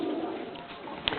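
A Marco Polo tinggian tomprang racing pigeon cooing, heard as a soft, low throaty murmur close by with a brief brighter note near the end, quiet overall.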